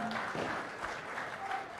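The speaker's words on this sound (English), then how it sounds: "Come on, can we have a huge round of applause?" Audience applause for the winner of the Bengaluru Open 2025 golf tournament, a steady, moderately quiet patter of clapping that holds for a couple of seconds with a faint tone underneath.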